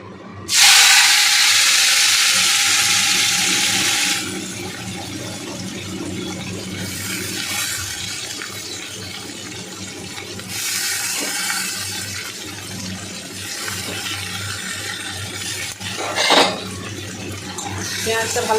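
Onions frying in a pan with whole garam masala, green chilli and a little sugar give a loud hissing sizzle at first, then a softer steady sizzle. Someone talks over it.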